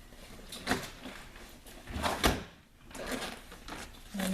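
A quick latch click and thump of a cab enclosure door opening on a Honda Pioneer 1000-5 side-by-side, a couple of soft clunks and rustles around it, close by with no talk.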